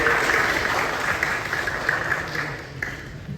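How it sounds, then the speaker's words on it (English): Audience applause at a tech talk on building scalable web apps, a steady wash of clapping from a room of people that gradually fades, with no speech over it. "So let's give him a big round of applause."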